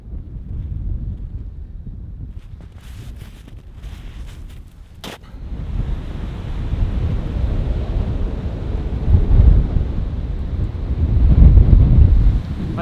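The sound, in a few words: wind blowing in snowy mountains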